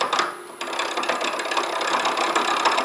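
A pen blank catching on the turning tool on a wood lathe, giving a brief harsh knock and then a steady rattling, grinding whir as the blank spins, loud and close.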